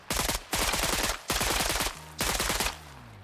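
Suppressed AUG rifle fired in single shots in the ARMA Reforger video game, four sharp, loud reports spaced roughly 0.7 seconds apart, each followed by a brief ringing tail, with no talking.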